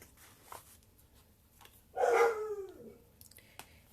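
A single bark, drawn out slightly, rings out from a dog nearby amid quiet room noise.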